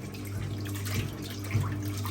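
A 1958 Hotpoint Empress washing machine on its rinse cycle, laundry churning through water, gives a steady close motor hum with soft sloshing and a couple of slightly louder swishes, no voices.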